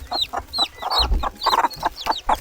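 Heritage chickens on a farm clucking close by, a run of short rhythmic clucks and squawks, with no talking.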